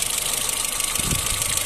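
Renault Clio engine running steadily with a broad mechanical hum, a brief heavier surge near the end as the accelerator is pressed, revealing an odd noise; no talking.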